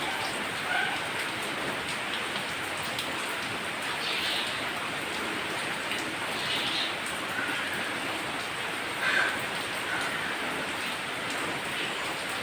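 Heavy rain pours down in a steady, unbroken hiss of drops hitting surfaces, loud and close throughout with only slight swells.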